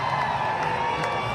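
A concert crowd jeers and boos in a brief, loud burst of massed voices.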